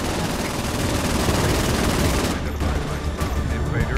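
Rapid sustained automatic gunfire in the video game Saints Row IV, a dense loud burst of shots that thins out partway through with sparser shots after.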